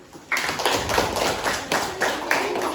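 A small group claps hands together in a roughly steady rhythm, close and fairly loud, starting abruptly after a brief quiet moment and continuing evenly with no talking.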